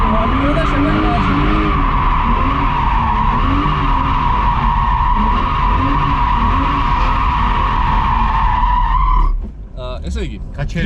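A car drifting with long, loud tire screeching and engine roar held steady for about nine seconds, then cutting off abruptly to quieter noise at the end.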